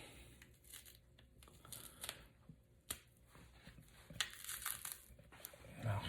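A vegetable being peeled by hand for sancocho, with soft repeated tearing and crinkling of skin pulled away, close and quiet, continuing in irregular bursts for several seconds.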